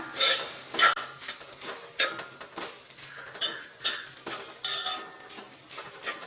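A spoon repeatedly scraping and clattering against a metal pan in an uneven rhythm as grated coconut is dry-roasted, with a faint sizzle underneath.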